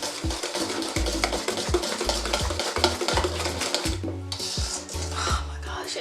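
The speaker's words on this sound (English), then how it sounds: "I have 1 teaspoon of vanilla extract, and you can give that a mix" Vanilla extract being stirred into a candy syrup mixture in a bowl, with steady close scraping and clinking of a utensil, under a continuous low musical background.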